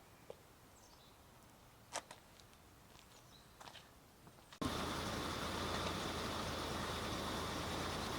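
A car engine is running during a radiator flush with Liqui Moly radiator cleaner. A few faint clicks give way to a sudden loud, steady engine drone that continues to the end.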